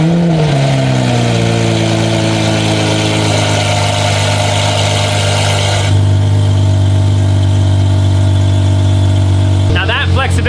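Lamborghini Aventador Ultimae fitted with a fully valved Valvetronic exhaust, a loud steady engine drone with rising and falling tones as it pulls away, settling into a deep constant rumble; a voice speaks briefly near the end.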